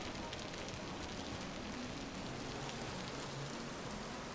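Steady rain hisses evenly across the Vintage Story game world, a dense, continuous wash of droplets with no voices or breaks.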